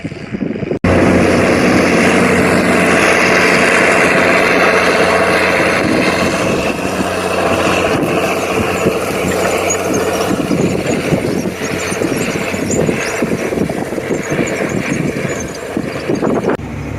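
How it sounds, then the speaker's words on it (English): A heavy tractor engine drones loudly and continuously, a dense low rumble with mechanical rattle holding steady throughout, with no talking. "this tractor still does a lot of work"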